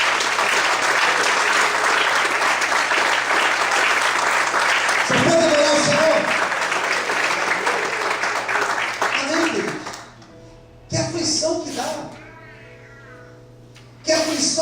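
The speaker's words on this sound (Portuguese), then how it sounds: "Quantos podem aplaudir o Senhor nessa noite?" A church congregation applauds loudly and steadily for about ten seconds, then the clapping stops abruptly, leaving brief bursts of voices and sound between quieter gaps.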